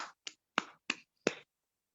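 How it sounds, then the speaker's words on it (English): Five sharp, separate claps at an uneven pace, close and fairly quiet, each with a short bright crack, with silence between them and no talk. "I'm sorry, I'm over here clapping."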